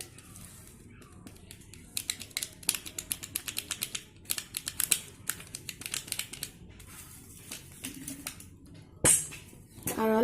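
Eggs beaten by hand with chopped onion, green chillies and ground black pepper for a potato cheese omelette: a rapid run of light clicking strokes against a bowl, close and quiet, ending in a few louder knocks.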